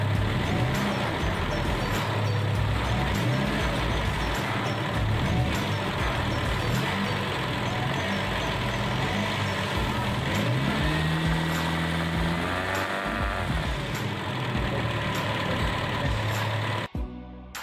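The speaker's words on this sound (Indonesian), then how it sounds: "ayun pedal gas" A conventional petrol car engine revs repeatedly as the gas pedal is pumped during a tune-up, a steady loud engine drone rising and falling in waves before cutting off abruptly near the end.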